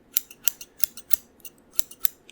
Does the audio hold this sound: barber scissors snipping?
yes